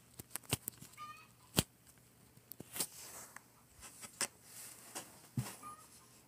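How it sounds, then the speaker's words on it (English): Chickens cluck faintly in the distance behind a quiet indoor room, heard as sparse, soft calls among scattered small clicks and rustles. "I really hope those chicken sounds don't get caught in the recording."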